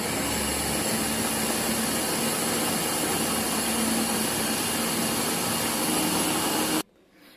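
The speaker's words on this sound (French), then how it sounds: "Et là on est parti pour le mixage." A blender whirs loudly and steadily for about seven seconds, mixing mojito ingredients with sugar and a little water, then switches off abruptly.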